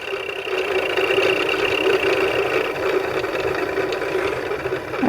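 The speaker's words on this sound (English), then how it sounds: "The bobbin winder's doing its little job here. Spinning away." A sewing machine's bobbin winder spins steadily, giving a continuous mid-pitched motor whir with a constant tone and no pauses, close and moderately loud throughout.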